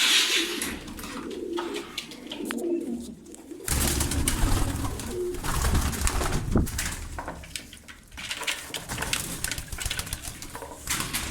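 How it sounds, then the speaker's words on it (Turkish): American Show Racer pigeons cooing, loud and close, with continuous overlapping coos and some rustling throughout. "Kocaman kuşlar, boğa gibi kuşlar."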